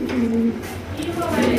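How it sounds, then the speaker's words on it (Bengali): A pair of Polish Lynx pigeons coo nearby in low, throaty, rolling calls, closely repeated over a short stretch. "এখানে রয়েছে এক জোড়া পলিশ লাইন কবুতর, এটা হচ্ছে মাস্টার পেয়ার"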